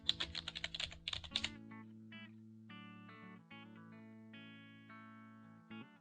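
Quick burst of computer keyboard typing, a rapid run of crisp clicks for about a second and a half, followed by electronic tones.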